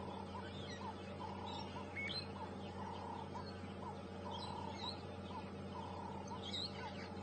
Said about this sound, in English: You can hear that high-pitched squawking, typical of a parrot.